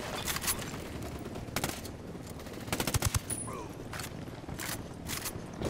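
Gunfire in the tactical shooter Ghost Recon Wildlands, scattered bursts and single shots cracking at irregular intervals at moderate distance, with some nearby mechanical clicks and footsteps mixed in.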